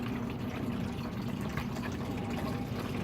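Water pours steadily onto an indoor gold sluice, producing a continuous close splashing and trickling wash at moderate level with no talk.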